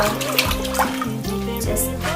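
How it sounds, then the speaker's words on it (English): Water pours steadily over cut cabbage in a bowl during kimchi making, a close, continuous splashing rush with shifting tones as the bowl fills. "Okay, now put in water."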